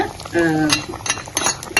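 Fried onions with fenugreek and curry leaves being stirred into a simmering fish curry: close scraping stir strokes over a soft sizzle, with a light clink of utensil against the pot.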